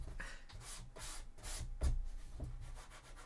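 Sanding a chainsword cosplay prop for a Sisters of Battle costume, repeated rhythmic abrasive strokes, close and fairly loud, alone without talk.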